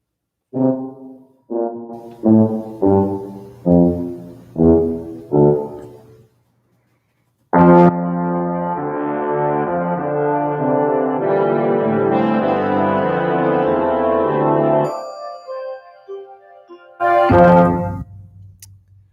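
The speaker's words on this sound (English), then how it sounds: "if I have tuba walk away from this baritone whole note" A tuba plays six separate detached notes, then a long sustained chord of tuba and baritone tones swells and holds before a final short blast.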